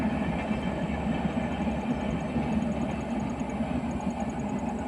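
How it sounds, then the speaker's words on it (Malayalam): A train crossing a bridge over a river produces a steady, continuous rumble with a broad roar that holds evenly throughout, with no voices. "ഈ പുഴയുടെ മുകളിലൂടെയുള്ള ആ പാലത്തിലൂടെ ട്രെയിൻ കടന്നു വരുന്നു."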